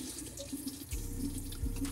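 Tap water runs faintly while a Real Techniques makeup sponge is dampened under it, a quiet continuous trickle with a few soft bumps and no talking.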